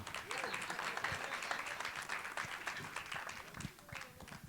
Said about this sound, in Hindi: मैं एक बार ताली बजाइए ना आप लोग।